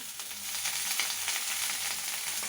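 Sliced onions with a bunch of fresh coriander sautéing in a pan for Tamil-style coriander chutney, giving a steady, close sizzle with light stirring scrapes and no voices.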